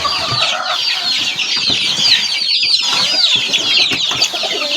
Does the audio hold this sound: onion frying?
no